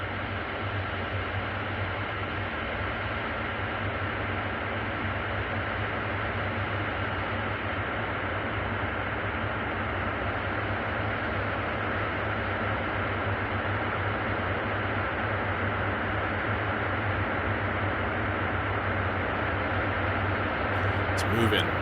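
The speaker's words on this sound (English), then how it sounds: "Make your grain length long, and then blast it through the internal reverb." A Eurorack modular synth plays long grains washed through its internal reverb, giving a dense, steady, droning hum that stays loud and unchanging throughout, with a brief bright burst at the very end.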